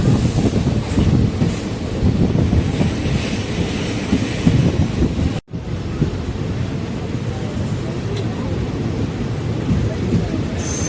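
A train pulls into Kommangalam railway station, heard from on board as a loud, continuous rumble with rattling carriages and a brief dropout midway.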